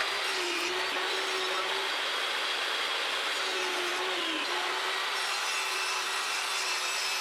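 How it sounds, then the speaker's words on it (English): Steady, continuous cutting noise from a tool running a groove into wood for the bottom panel of a sewing organiser box, holding even and close throughout with a faint tonal whine underneath and no talk. "now I'm just cutting a groove for the bottom panel"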